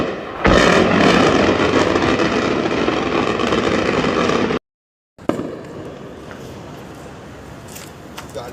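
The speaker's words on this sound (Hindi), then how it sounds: "उधर इराक में अमेरिका का बेस जो है वहां धमाकों की" Explosions at a US base in Iraq: a dense, loud continuous rumble of blasts and bursts, then after a brief cut a quieter stretch with a few scattered pops and background noise.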